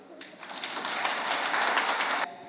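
A church audience claps loudly for the winner of a Couples Day game, with dense, steady applause swelling to a peak before cutting off abruptly near the end.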